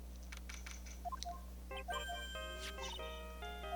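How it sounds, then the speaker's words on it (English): A phone ringtone from the Phoenix Wright: Justice for All video game plays a faint, bright electronic chime melody of stepped tones over a steady low hum, preceded by a few short blips. "I don't like the sound of the ringtone right now."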